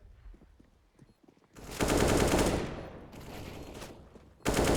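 Default pistols firing in a shooter video game give bursts of rapid gunfire: faint scattered shots at first, then a loud sustained volley, a brief lull and another sharp burst at the end.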